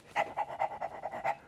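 Quick rhythmic dog panting, about six or seven breathy huffs in a steady pulse, close and fairly quiet with no other sound.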